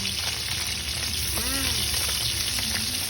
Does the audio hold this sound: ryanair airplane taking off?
no